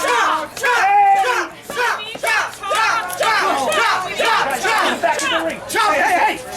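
A wrestling crowd at a live indie show shouts and chants in loud, rhythmic bursts of many voices, excited and close, forming a continuous roar of cheering calls.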